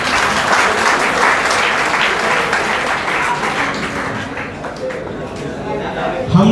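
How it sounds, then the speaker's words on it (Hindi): Sustained applause from a large student audience in a college auditorium at Greater Noida, a dense, steady wash of many hands clapping that holds at a fairly loud level for several seconds before tapering slightly, with crowd chatter mixed in. "तालियां बजा दो।"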